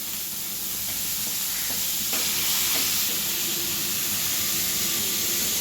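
Onion and cabbage sauté in a hot pan with green chili and curry leaves, giving a continuous close sizzle and hiss with faint stirring scrapes throughout.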